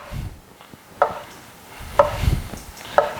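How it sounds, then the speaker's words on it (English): A knife slices gnocchi dough into inch-sized pieces on a board, giving three crisp, evenly spaced cuts about a second apart, close and clear with no talking. "we're going to cut off little pieces"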